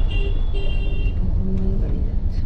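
A car rolls past on a busy road through a market area near Kottavalasa on the Vizag to Araku route, a low engine rumble at close range with faint voices in the background.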